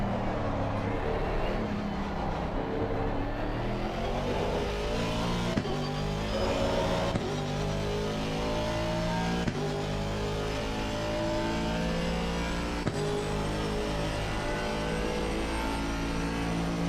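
Several race cars in a racing video game run close behind a McLaren, drafting, and their engines form a loud, steady, continuous roar with a shifting pitch and no pauses.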